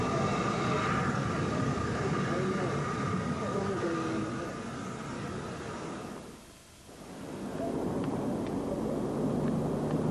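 A pair of Adams tank steam locomotives double-heading a through train from Waterloo, a loud steady rumble of running rails and chuffing that fades briefly in the middle, then returns at full strength.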